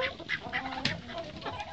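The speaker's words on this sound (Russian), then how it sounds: "Во, курица уже начала биться." Chickens and a turkey scuffling in a small farmyard, giving repeated squawks and clucks in short bursts over about two seconds, close and moderately loud with no talk.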